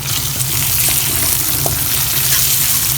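Curry leaves and two green chillies sizzle steadily in hot coconut oil as the base for a Kerala crab pepper roast, a loud, close, continuous crackle with no voices.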